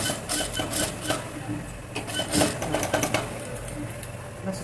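Sewing machine stitching fabric for a frock's princess-cut back neck, a steady mechanical whirr with rapid ticking pulses, fairly quiet and close, without speech.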